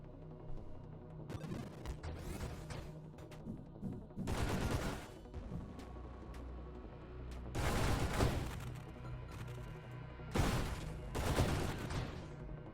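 Railgun fire from a ship in the space shooter Nova Drift, heavy booming volleys bursting in several loud clusters over a constant rumbling game soundscape with crackling explosions.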